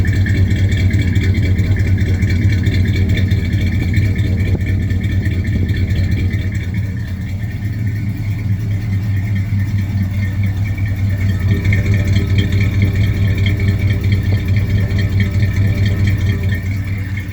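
A 1978 GMC truck engine runs at a steady idle, close up and loud, with a deep, even rumble and a light mechanical whir throughout. No voices are heard.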